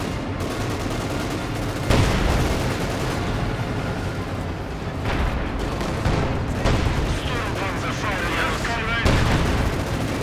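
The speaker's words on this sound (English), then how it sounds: "KV-8 here, firing its 45mm gun at the Panther." A KV-8 tank fires its 45mm gun at a Panther in Company of Heroes 2, with loud booming shots and bursts of gunfire landing at intervals over a dense, constant battle din.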